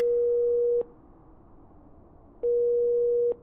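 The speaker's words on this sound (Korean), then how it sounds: "전화가 오나봐" An electronic phone tone rings inside a video game, sounding as a steady pure beep that lasts under a second, pauses about a second and a half, then sounds again, clear and alone.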